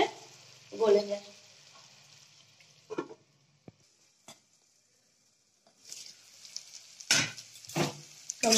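Tomatoes cooking in a pan for a broccoli dish, faint intermittent bursts of soft sizzling and spoon scraping separated by near-silent stretches, louder toward the end.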